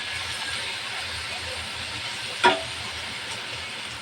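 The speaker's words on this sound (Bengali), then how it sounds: "মাছ ভাজার জন্য দিয়ে দেবো তেল, দিয়ে দেবো মাছ" Shrimp frying in oil in a pan gives a steady, faint sizzling hiss throughout, with one brief louder crackle partway through.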